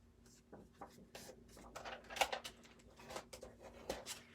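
A tool scoring a line into a paper sheet for a gift card envelope, heard as quiet, close scratchy strokes and light taps in short irregular bursts against a faint background hum.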